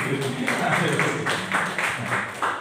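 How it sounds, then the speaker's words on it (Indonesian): An audience at a church sermon breaks into applause for a congregant, a steady patter of clapping from many hands lasting a few seconds in a reverberant hall. "Tepuk tangan buat saudara."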